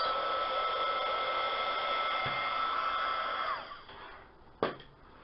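An American Crafts heat tool blows a steady hot-air roar over resin to pop bubbles, holding constant before easing down, with a couple of small knocks near the end.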